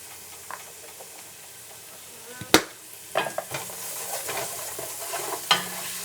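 Homemade garam masala goes into a sizzling pan while the lentil curry cooks, a soft steady frying hiss close by with a few sharp clinks and stirring scrapes.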